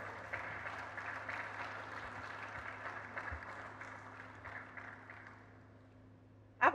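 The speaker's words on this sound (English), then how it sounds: "We applaud him again while he takes his seat." Applause at a university convocation ceremony, held as the newly inaugurated chancellor takes his seat: a soft, distant wash of clapping over a low hum that gradually fades, ending with a brief loud bump.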